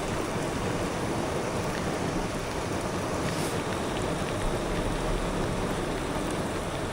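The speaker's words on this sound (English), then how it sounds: "Cozy rainy day vibe going on in the van." Rain falls steadily on a van in a dense, even hiss, with no talking.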